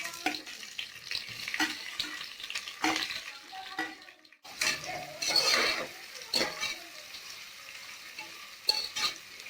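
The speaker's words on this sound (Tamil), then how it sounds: "வெங்காயம் நல்லா பொன்னிறமா ஆகுற வரைக்கும் நம்ம வதக்கிக்கலாம்." Onions sizzle in a hot pan with steady frying crackle, interrupted by repeated scraping stirs of a spatula against the pan.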